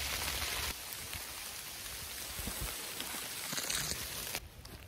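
Steady rain patters on the fabric of a tarptent during an overnight storm, a dense continuous hiss with scattered drop ticks, close and even throughout, with no voices.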